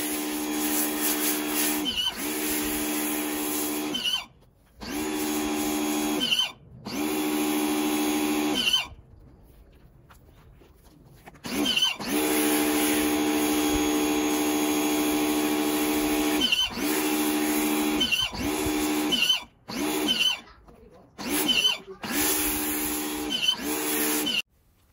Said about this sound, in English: Next, I like to hit it with snow foam.